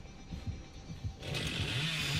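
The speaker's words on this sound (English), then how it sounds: "He goes rapid with chainsaw!" Chainsaw revving in the horror game Dead by Daylight, a steady buzzing roar that swells louder partway through and holds close and intense to the end.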